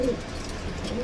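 A racing pigeon in a loft gives a short, close, soft cooing call, a brief low throaty murmur alone without talk.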